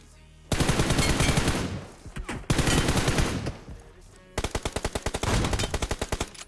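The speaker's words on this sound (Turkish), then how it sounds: "herkes sıkıyor." Automatic gunfire in the battle royale game PUBG Mobile on the Miramar map comes in long, rapid, loud bursts separated by brief pauses, with no talk.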